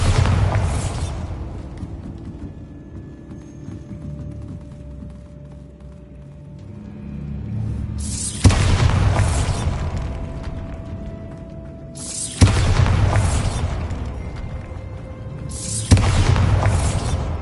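Bombarda blasting spell explosions in a video game, three sharp loud booms at regular intervals, each a sudden broadband burst trailing off into a rumbling decay.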